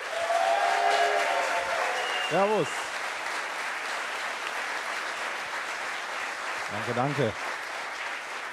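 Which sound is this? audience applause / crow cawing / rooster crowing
audience applause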